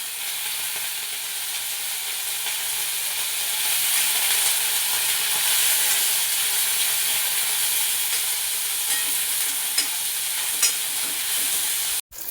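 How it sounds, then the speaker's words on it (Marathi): Soaked chillies fry in hot oil for a Kolhapuri veg curry and get tossed around the pan, giving a steady, dense sizzling hiss that carries through without pause and cuts off sharply at the end. "ते भिजत घातलेले मिरच्या आहेत ना, ते आता आपण तेलामध्ये सोडून देणार आहे"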